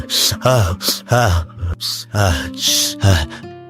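A person loudly imitates a dog's panting, with a series of rapid, voiced gasping breaths close to the listener in an uneven rhythm.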